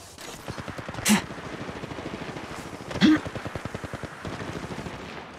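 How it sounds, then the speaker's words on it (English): Rapid automatic gunfire in the mobile video game Apex Legends Mobile, a fast rhythmic stream of shots with two louder bursts standing out, close and continuous. "Opening fire"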